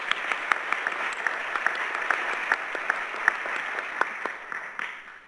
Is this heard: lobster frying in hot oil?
no